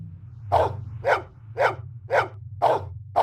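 A dog barks six times at a steady, even pace inside the Blade Runner video game, each bark loud and close over a low constant hum of background ambience.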